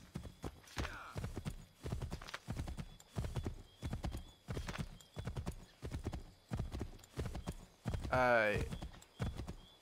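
A horse gallops in Assassin's Creed III with a steady, rhythmic clip-clop of hooves and a loud whinny near the end, while someone talks over it.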